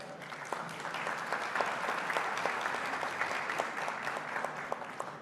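Steady audience applause fills a panel session on public media content trends in Colombia. It stays even and moderately loud for about five seconds, with sharp individual claps standing out and no talking.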